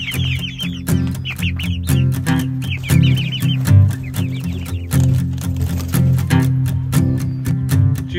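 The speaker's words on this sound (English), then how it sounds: "Here's our Indio Gigante chicks, the tallest chickens in the world" Seven-week-old Indio Gigante chicks cluck and peep busily at close range, a dense overlapping chorus of short chirps over a low, steady hum.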